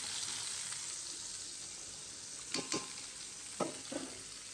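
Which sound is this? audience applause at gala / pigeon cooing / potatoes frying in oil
potatoes frying in oil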